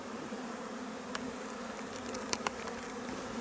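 A clustered honeybee swarm is being shaken and scooped into a hive, producing a low, continuous buzzing hum with a few faint clicks and knocks.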